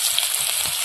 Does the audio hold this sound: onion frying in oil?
yes